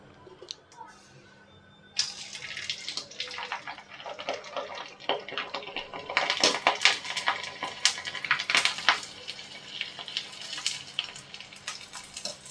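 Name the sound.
wheat kurdai frying in very hot oil in a kadhai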